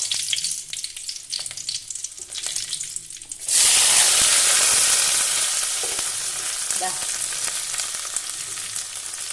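Sliced onion, garlic and dried chillies drop into hot oil. Quiet pan sounds give way to a sudden loud, hissing sizzle that stays strong and bubbly, slowly easing with faint stirring clicks.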